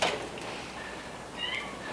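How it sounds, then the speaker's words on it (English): Indoor house cats meow a few times, short faint calls drifting in the background of a quiet room, with no talking over them. "We can hear the kitty cats meowing in here."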